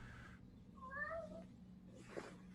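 A cat meows, a short tonal call with bending pitch in the middle of the clip, set over a steady low hum with a brief burst of noise at the end.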